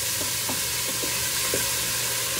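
Two tablespoons of minced garlic sizzling in olive oil in a Ninja Foodi pot, a steady loud hiss of frying that lasts the whole time, with a few faint stirring scrapes and no voices.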